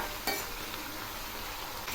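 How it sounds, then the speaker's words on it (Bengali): Chopped bottle gourd and potatoes with green chilli being stirred in a hot pan, a soft continuous sizzle with a scrape of the spoon near the start and again at the end, close and fairly quiet, no voices. "এবার আমি এগুলি নেড়ে দিচ্ছি"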